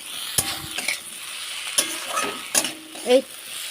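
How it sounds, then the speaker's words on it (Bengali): A spoon stirs frying vegetables with half a spoon of ginger paste in a hot pan, a soft steady sizzle broken by a few sharp scraping clinks against the metal, close and fairly quiet. "এবার এর মধ্যে 1/2 চামচ আদা বাটা দিয়ে দেবো, দিয়ে একটু নাড়াচাড়া করে নেব।"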